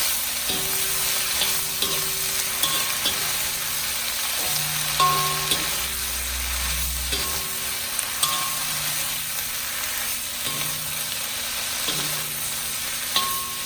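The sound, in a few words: frozen vegetables cooking in a hot pan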